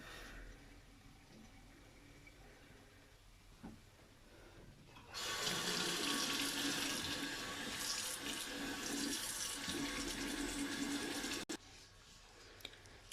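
A water tap refills fresh water for washing a mattress with an Arnica Hydra Rain Plus carpet washer. After quiet room noise, a steady loud rush of running water starts abruptly, continues for about six seconds, then cuts off.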